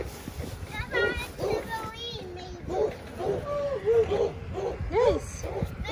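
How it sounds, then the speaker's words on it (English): A dog barks and yips outdoors in the snow, sharp repeated calls mixed with whimpering, while children talk and play nearby over it. "This dog is noisy."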